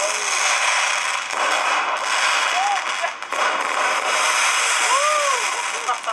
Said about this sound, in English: an example is sort of firework display that I recorded